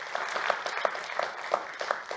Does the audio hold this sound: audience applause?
yes